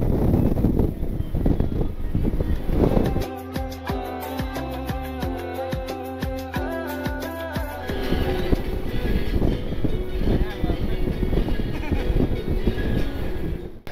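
Strong wind buffets the microphone by a roadside near a checkpoint in Teknaf, a heavy low rumbling roar throughout, with a steady droning tone passing through the middle.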